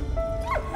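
A dog in the video game Valiant Hearts: The Great War gives a short, close whimpering bark with a rising yelp, a single brief vocalization.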